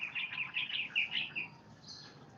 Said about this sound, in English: The sparrows are going nuts